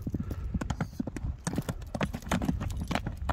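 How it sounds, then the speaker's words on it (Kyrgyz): A sturdy, heavy-set horse clip-clops at close range, rapid hoofbeats striking in an uneven trotting rhythm, with faint voices underneath. "Торпок улакка жарай турган ат экен."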